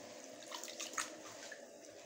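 Water swishes and trickles faintly as soaked Kitchen King rice is rinsed by hand in a bowl for ghee rice, soft brief splashes near the middle.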